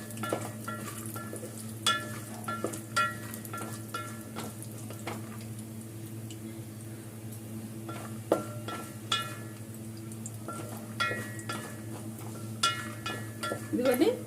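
Cashew nuts fry in a pan for carrot payasam, a low steady sizzle over a constant hum, broken by repeated clicks and scrapes of stirring.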